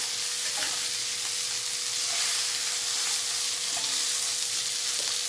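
Wild tuna sears in a Saladmaster pan over medium-high heat after being flipped, giving a steady, close sizzle and crackle that holds evenly for the whole stretch, with no voices over it.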